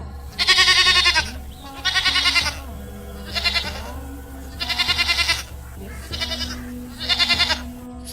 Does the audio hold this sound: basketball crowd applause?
no